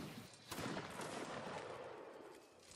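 Musket volleys crackle across a Napoleonic Wars line battle in a video game, a sharp shot followed by a sustained, dense rolling fusillade of distant gunfire with no talk.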